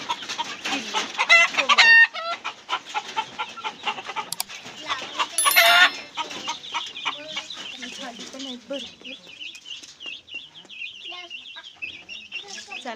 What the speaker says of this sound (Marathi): आता मी कोंबड्या एवढं दाखवायचं होतं मला